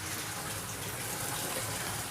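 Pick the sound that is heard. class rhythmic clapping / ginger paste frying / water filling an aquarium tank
water filling an aquarium tank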